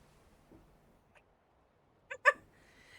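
A pure black cat gives a couple of short meows close by in a quiet room, a brief double call followed by faint background hum.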